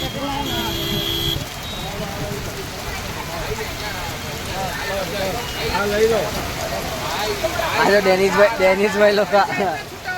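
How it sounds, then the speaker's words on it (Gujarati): Heavy rain pours steadily in a dense patter while several people talk over it. "ધમાકેદાર વરસાદ ચાલુ થઈ ગયો"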